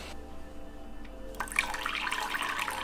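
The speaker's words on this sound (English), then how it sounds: "now we've got to add the water" Water is poured into a bowl of homemade slime mixture, a brief quiet pause giving way to a steady trickling splash that continues close and moderately loud until the end.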